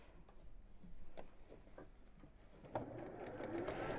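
A sewing machine runs a top stitch around the top of a layered fabric bag, a steady mechanical whir that starts quietly and grows louder and busier toward the end, with occasional light clicks.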